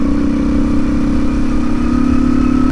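A BMW motorcycle engine runs at high speed, a loud, steady droning tone that holds without a break and with no voices over it.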